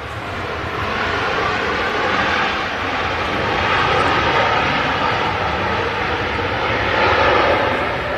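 A Ryanair airliner lands at Manchester Airport, its engines giving a loud, steady roar that swells and sustains throughout, heard close by with no talk over it.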